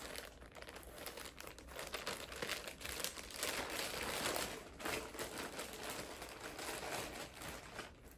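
Continuous crinkling of a small plastic bag being opened and handled, dense crackly rustling that swells and fades over several seconds, close and fairly quiet with no talking.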